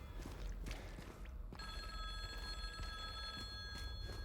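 A payphone rings in the Silent Hill 2 Remake, a quiet electronic trill starting partway through over soft footsteps and low ambient rumble.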